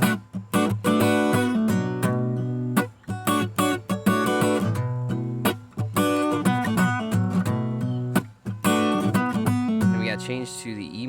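Blues licks picked on guitar, phrases of bright plucked notes and bends broken by short pauses, close and clear with no voice.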